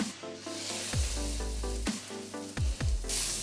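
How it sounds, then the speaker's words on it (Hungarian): Rib eye steak searing in a very hot pan in a restaurant kitchen, with steady sizzling frying throughout and a few sharp low clunks of the pan or meat being moved, close and alone with no talk. "Nagyon fontos, hogy a serpenyő forró legyen, egy nagyon gyors pörzsanyagot kell készítenünk a hús köré"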